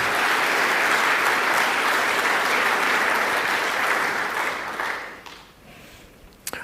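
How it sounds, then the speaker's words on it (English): Sustained, loud audience applause at a Northern Territory Australian of the Year awards ceremony fills the room, then tapers off and fades, leaving near silence with a couple of stray claps at the end. "Big round of applause."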